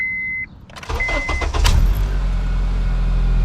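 A 2007 Honda Accord's engine cranks briefly and catches, then settles into a steady, close idle rumble.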